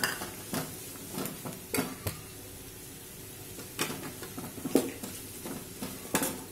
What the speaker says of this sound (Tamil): நான் இப்போ ஒரு பெரிய வெங்காயம், ஒரு சின்ன சைஸ் தக்காளி இதில் போட்டு வதக்கிட்டு இருக்கேன்.